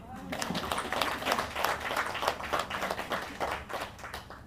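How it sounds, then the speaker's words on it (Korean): Wedding celebration guests clapping together in a quick, uneven burst of handclaps that runs throughout, fairly close and moderate in level, with a voice talking over the applause. "박수 한번 칩시다."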